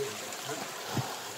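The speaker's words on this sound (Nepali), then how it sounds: "बिस्तारै बिस्तारै पानी ठुल्ठुलो हुँदै गएको छ" Water flows in a jungle as the current rises, a steady broadband rushing and trickling wash with one brief low thump near the end.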